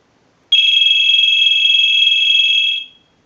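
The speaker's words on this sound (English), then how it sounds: "use the analyzer and send a ring cycle like you were getting a call" A Popeye novelty telephone rings as a test analyzer sends a ring cycle: a single loud, steady electronic trill lasts a little over two seconds, then fades quickly to silence.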